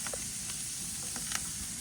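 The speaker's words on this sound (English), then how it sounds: "Listen to that sizzle" Steady, close sizzling of chicken breasts cooking on a hot grill, a constant crackling hiss with small pops scattered through.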